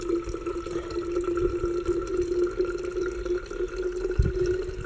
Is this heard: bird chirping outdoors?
no